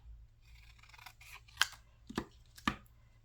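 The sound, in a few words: scissors trimming paper for envelope pockets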